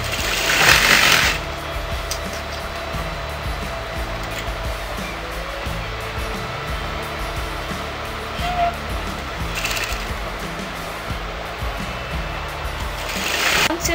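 A sewing machine stitches a border onto circle-skirt lehenga fabric, a steady mechanical hum with louder whirring bursts at the start, around ten seconds and at the end.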